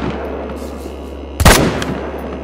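A single loud rifle shot rings out in the hunting video game theHunter: Call of the Wild, a sharp burst that rises above steady background game ambience and fades quickly with a short tail.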